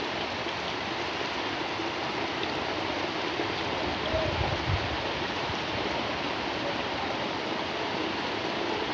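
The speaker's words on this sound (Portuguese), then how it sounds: "Muita chuva neste momento." Steady, dense heavy rain hisses continuously in strong wind, a broad rushing wash of water with no voices.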